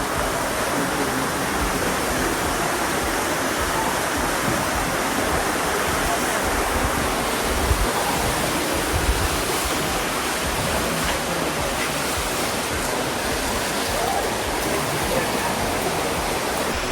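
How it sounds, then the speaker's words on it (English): Steady, broadband rushing of the Coldwater River flowing beside thermal springs in Chocó, Colombia, constant and fairly loud throughout, with no breaks. "There's the Coldwater River"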